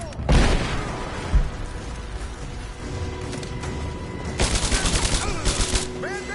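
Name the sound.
gunfire in the video game Rise of the Tomb Raider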